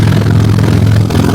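Steady, close idle of a car engine whose exhaust pipe is broken and leaking, a deep continuous rumble with rough chuffing texture and a brief dip near the end.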